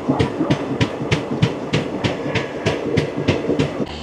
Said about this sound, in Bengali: এটা হচ্ছে জাগি রোড থেকে শিয়ালদা এসি স্পেশাল ট্রেন